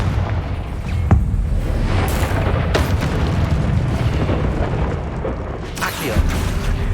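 Confringo blasting curse from Hogwarts Legacy on PS5 sets off a loud boom early on, with further bursts and explosive cracks across a dense, rumbling game soundscape.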